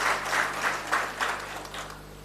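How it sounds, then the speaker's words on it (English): A round of applause for panelists at an agricultural research council event, a moderate steady patter of clapping with a faint hum underneath, fading slightly toward the end. "Can we give them a round of applause while I get a roving mic?"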